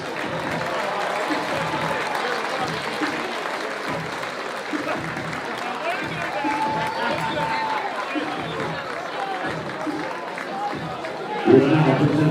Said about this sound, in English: let's give this ultimate team a round of applause